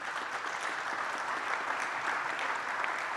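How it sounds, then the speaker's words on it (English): Sustained applause from a conference audience at a government cyber summit, steady dense clapping throughout with no pauses, filling the hall at moderate distance. "I want to give a round of applause to our distinguished guests up on the panel"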